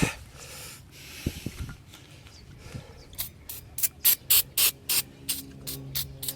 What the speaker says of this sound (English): spray it with brake cleaner and wipe it down